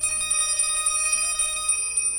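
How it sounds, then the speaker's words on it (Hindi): A bell rings continuously with rapid, evenly repeating bright metallic strikes, loud and close, with sustained ringing tones and no talking over it. "घंटी बज गई।"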